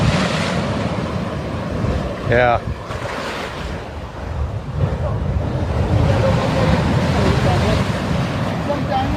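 Rough sea surf breaking on large rocks beside a lighthouse on an exposed coast, a loud continuous roar of waves with heavy wind buffeting the microphone, and a voice speaking briefly.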